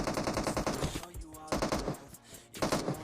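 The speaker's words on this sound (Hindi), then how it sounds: "फिर ये बॉट फायर भी देते हैं बुलाने के लिए।" Bots firing guns in the mobile battle royale game BGMI (PUBG Mobile), heard as rapid automatic bursts of close gunfire in several short volleys separated by brief pauses.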